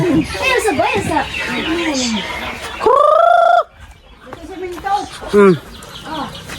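Chickens cluck and squawk close by, with a few louder drawn-out calls, while a person talks intermittently among the birds.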